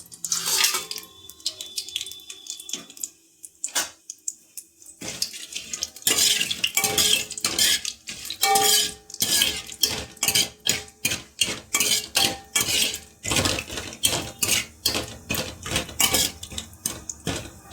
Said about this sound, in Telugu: ఆయిల్ వేసిన తర్వాత ఈ స్పైసెస్ ఏవైతే నేను చెప్పానో ఆ స్పైసెస్ అన్నీ వీటిలో వేయాలండి